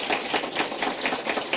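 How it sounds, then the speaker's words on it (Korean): An audience at a special lecture claps warmly for the guest lecturer, a professor at KAIST's graduate school of technology management, with brisk, continuous clapping close by and loud. "다시 한번 뜨거운 박수."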